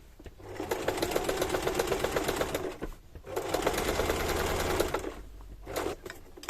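A sewing machine stitches a children's mouse bag in fast rattling bursts, running steadily for a few seconds, pausing briefly, then running again before stopping with a short final burst, close and clear with no talk.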